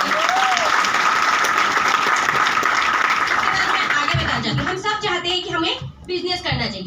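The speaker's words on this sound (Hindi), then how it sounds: "आप लोगों की समझदारी के लिए मैं जोरदार तालियां चाहती हूँ।" Audience at a business plan presentation giving loud applause, a strong continuous wash of clapping that gives way to a speaker talking over the tail in the last few seconds.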